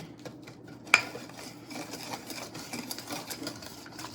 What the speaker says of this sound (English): I'm gonna go ahead and whisk this all together.